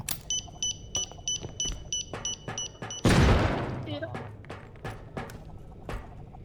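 A grenade in the video game R.E.P.O. beeps in a steady rapid series of electronic chirps, then bursts in a loud, heavy blast that rumbles and fades over several seconds amid scattered clicks.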